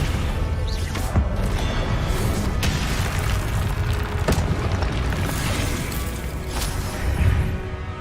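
Depulso and Descendo spells go off in Hogwarts Legacy, with heavy booming impacts and crashes over a dense, loud game soundscape, a few sharp hits standing out.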